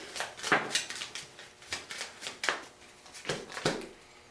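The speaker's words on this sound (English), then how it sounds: "I'm going to shuffle up my discard pile" Playing cards from a discard pile being shuffled at a tabletop game, a run of soft papery riffles and taps in irregular bursts, close and fairly quiet, with no talking.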